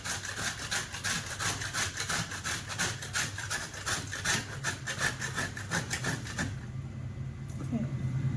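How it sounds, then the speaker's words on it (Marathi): Fresh coconut is scraped on a large grater in quick, rhythmic rasping strokes, roughly two per second, which stay fairly quiet and close. The strokes stop about six seconds in. "आता हे सगळं खोबरं आपलं चांगलं किसून झालंय, मोठ्या किसणीने चांगलं किसले हे खोबरं"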